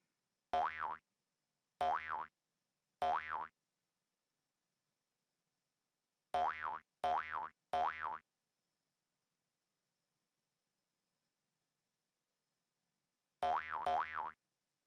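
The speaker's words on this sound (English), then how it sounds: "the bounce sound matching the ball impact" Cartoon boing sound effects for an animated bouncing ball: eight short springy twangs, three spaced early, a quick cluster of three mid-way, and a final pair after a long silence, clean and isolated.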